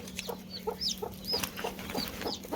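In a village setting, a hen clucks softly in short repeated bursts while her newly hatched chicks peep in thin, high chirps around her, all fairly quiet and close.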